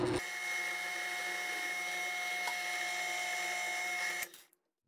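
A wood lathe spins steadily while a hole is deepened in an English walnut box for a salt cellar, giving a sustained whine with a tonal hum. It runs evenly, then winds down and stops near the end.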